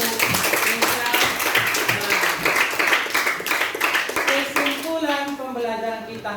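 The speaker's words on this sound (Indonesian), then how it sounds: "Kita berikan tepuk tangan untuk Kesia." A classroom group claps for a student named Kesia after an interview exercise, a fairly loud patter of many hands, uneven, that thins and fades near the end while voices start to talk over it.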